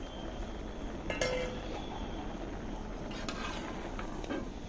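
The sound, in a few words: chopped vegetables added to pot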